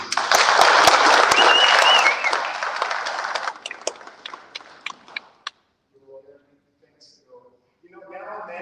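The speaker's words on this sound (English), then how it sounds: "We give a big round of applause to Romaine Marshall, please" An audience at a cybersecurity lunch and learn applauds a speaker. Loud, dense clapping fades into scattered individual claps, then brief quiet and some faint talking.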